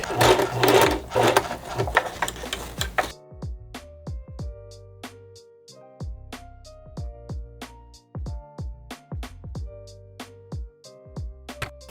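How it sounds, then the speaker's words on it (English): A sewing machine stitches the bottom of a fabric cup. After a dense stretch of whirring at the start, the machine runs in short, rhythmic bursts of stitching with brief pauses between them. "I'm sewing the bottom part of the cup now"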